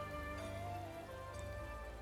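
Rain in the video game Final Fantasy XIV, a faint, steady hiss of falling drops under a low sustained musical drone, with no voices.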